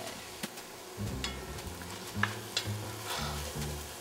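Mushrooms sautéing in a pan, a soft steady sizzle broken by scraping strokes and light clatter as they are stirred, close and fairly quiet, with no voices.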